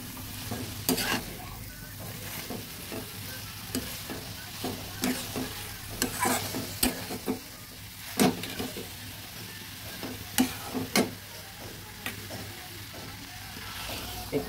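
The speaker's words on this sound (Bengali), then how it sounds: "ভালোভাবে নেড়ে দিচ্ছি।" Yardlong bean and potato curry stirred in a pan, a spoon scraping in a steady irregular rhythm of sharp clicks over a continuous low sizzle of frying, close and moderately loud with no talking.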